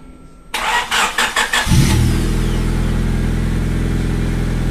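Honda Civic engine cranking with a rapid series of starter whirs, then catching and settling into a steady, smooth idle after a timing belt replacement, heard close with no talk.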